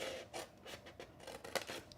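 Scissors cut the corner from a paper shadow box lid, giving several close, quiet snips and scraping rasps in uneven rhythm over two seconds, with no talking.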